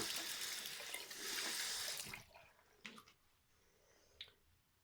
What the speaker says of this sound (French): Je rince ma brossette.